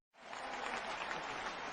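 A burst of steady clapping from a seated audience at a DXN business gathering in India, starting abruptly and continuing evenly, dense and moderately close.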